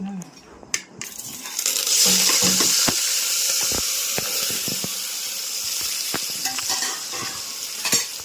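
Vegetable tempering for Kathiyawadi khichdi sizzles in hot oil with curry leaves, green chilies, tomato and potato. A loud hiss bursts in early and then settles into a steady sizzle, broken by sharp clicks of stirring.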